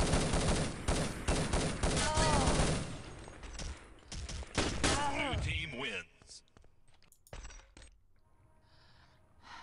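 G36 and LR-300 assault rifles trade fire in a competitive first-person shooter match, dense rapid shots loud at first, then thinning into sparse bursts and clinks, with a commentator's voice running over the action.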